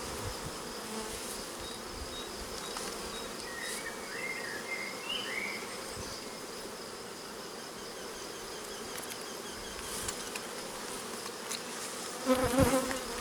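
Honeybees buzz around an opened hive during an inspection, a dense, steady hum with individual bees droning past close by, and a brief clatter of handling near the end.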